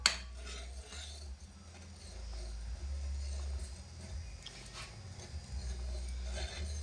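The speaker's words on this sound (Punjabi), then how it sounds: "ਇਦਾਂ ਹੀ ਚਮਚਾ ਫੇਰ ਫੇਰ ਕੇ ਆਪਾਂ ਇਹਨੂੰ ਚੰਗੀ ਤਰ੍ਹਾਂ ਕਾੜ ਲੈਂਦੇ ਆ" A spoon scraping and stirring home milk as it boils in a pot, with light irregular clinks and taps over a low steady rumble of the heat, close and without talk.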